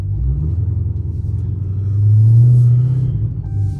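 A 1000 hp Dodge Hellcat idles at a gas station with a deep, loud rumble that swells into a heavier roar midway before settling back, close by and with no one talking.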